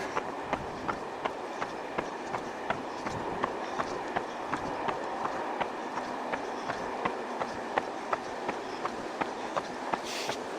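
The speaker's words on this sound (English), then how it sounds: "There goes the train." A train passes at a distance, its steady rumble carrying a regular clickety-clack of wheels over rail joints, heard outdoors during an early-morning run on a cold, windy day.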